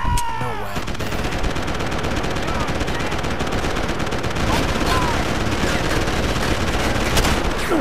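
Sustained rapid automatic gunfire fills a firefight in the video game Deus Ex: Human Revolution, loud and dense with overlapping bursts and shots throughout, after a brief synthetic tone at the start.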